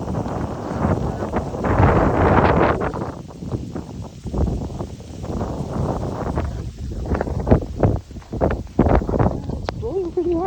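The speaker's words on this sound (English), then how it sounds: "It's blowing pretty hard." Hard wind gusts through a snowstorm on a walk in Belleville, Ontario, roaring steadily into the microphone with rustling bursts, while a person talks over it.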